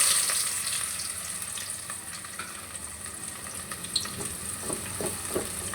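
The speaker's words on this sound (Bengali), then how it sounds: "তেলটা গরম হয়ে যাবার পরে দিয়ে দিচ্ছি 1 বাটি পেঁয়াজ কুচি।" Chopped onions fry in hot oil in a karahi while cooking a Bengali pabda fish bhuna, a steady close crackling sizzle throughout with occasional stirring clinks and scrapes.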